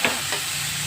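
Sliced onions are added to hot oil with golden-browned garlic and ginger. A short, loud burst of frying sizzle and crackle follows, close by, with no talking.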